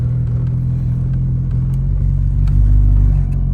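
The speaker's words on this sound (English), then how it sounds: "babysit that idle for a little bit because we don't have a working choke" A VW 16-valve engine fitted with motorcycle carburetors and no working choke idles with a steady, slightly uneven rumble and light clatter, close and continuous with no talk.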